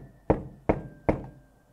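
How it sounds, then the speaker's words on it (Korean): A small toy hammer strikes plastic ice blocks in a penguin board game three times at an even pace, giving sharp, close knocks that ring off briefly, with a faint steady tone underneath. "주거니 받거니 얼음을 쾅쾅 깨며 놀고 있는데"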